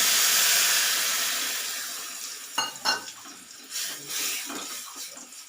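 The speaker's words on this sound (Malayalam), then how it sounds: "ഇനി ഇതിലേക്ക് ചൂടുവെള്ളം ഒഴിച്ചു കൊടുക്കാം കുറച്ച്" Hot water poured into a hot pan of onion curry with tamarind, starting with a loud steady sizzle and hiss that fades, followed by a few stirring clinks and scrapes.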